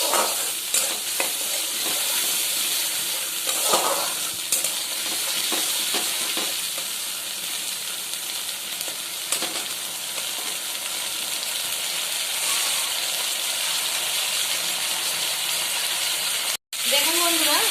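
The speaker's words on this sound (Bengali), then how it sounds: "আর যতক্ষণ পর্যন্ত পেঁয়াজটা ভাজবো, যতক্ষণ কাঁচা গন্ধটা চলে যায়।" Onions sizzle in hot oil as a steady, bright frying hiss, with occasional stirring scrapes and clinks through the pan over the full stretch.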